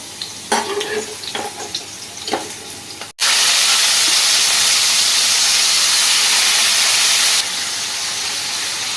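Shrimp coated in salt and turmeric drop into hot oil, setting off a loud, steady sizzle that holds for several seconds after a few light clinks and stirring sounds at the start.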